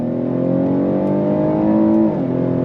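A 2023 Cadillac XT6 Sport V6 with all-wheel drive pulls out of a right-hand bend under throttle, its engine note loud, close and steadily rising before easing off near the end.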